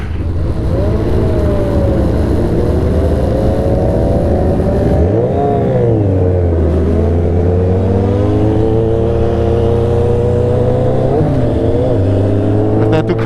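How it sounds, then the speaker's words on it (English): A Ducati Monster motorcycle engine revs loud and close, its pitch sweeping up and down through several rises and falls before settling into a steady drone, with no talking. "That's that Ducati Monster."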